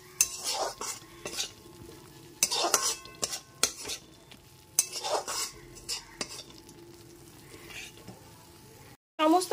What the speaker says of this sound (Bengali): সমস্ত মশলাটা এখানে খুব ভালো মতো কষিয়ে নিয়েছি।